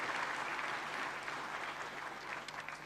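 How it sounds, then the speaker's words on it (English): An assembled gathering at a 78th Chartered Accountants' Day celebration gives a warm round of applause to the chief guest, dense steady clapping throughout, moderately distant. "join me in giving a warm round of applause to our honorable chief guest"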